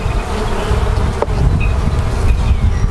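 Honey bees swarm around an opened hive of stacked boxes, their dense, steady buzz filling the air loudly and continuously at close range.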